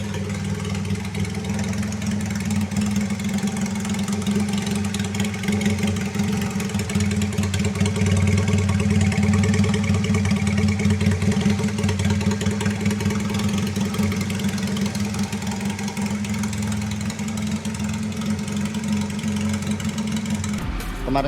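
A Benelli Patagonian Eagle motorcycle, custom-built Sportster style with a 350cc bore-up engine, idles steadily and loudly up close with a deep, even rumble that holds for about twenty seconds.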